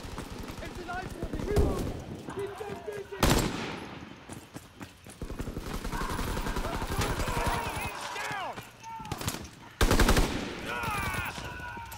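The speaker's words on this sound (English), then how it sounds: "We're shooting at each other because there are no enemies" Automatic gunfire and single shots in Call of Duty WWII team deathmatch on the Aachen map, bursts of machine-gun fire close and loud, mixed with footsteps and game effects while players talk over it.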